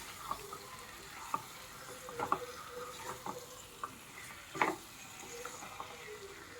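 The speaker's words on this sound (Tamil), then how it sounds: "இப்போ நல்லா சிக்கனோட அந்த மசாலாவை மிக்ஸ் பண்ணி விடுங்க." Half a kilo of chicken is stirred with masala in a pan for chicken varuval, quiet sizzling broken by irregular scraping and tapping of the spoon, close by.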